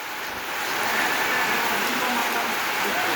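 Steady rain hissing down on a surface, a dense continuous patter that swells slightly after the first half second.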